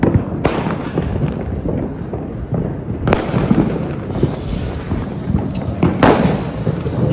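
Diwali firecrackers burst all around in a dense, continuous crackle and rumble, with several sharp, loud bangs standing out above the steady roar of the fireworks.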